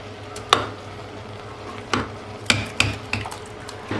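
A spoon stirs a couple of spoonfuls of mixture into soup for a holiday menu, giving a few separate clinks and scrapes against the pot at irregular intervals over a faint steady background hum.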